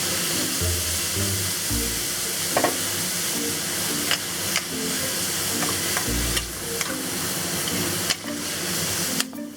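Leaf tripe and spicy pickled sour mustard sizzle and crackle in a hot wok, with steady frying hiss and repeated scraping and clanking as the ingredients are stirred and tossed.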